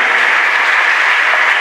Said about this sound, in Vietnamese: Xin cộng đoàn chúng ta vỗ một tràng pháo tay thật lớn